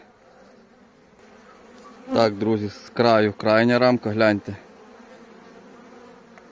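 A low, steady buzz of many honeybees around a hive hums throughout, while someone speaks briefly over it in the middle.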